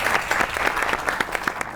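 A live audience on a comedy and poetry stage show applauds poet Ali Zaryoun, producing loud, continuous clapping with distinct sharp claps standing out throughout the short burst.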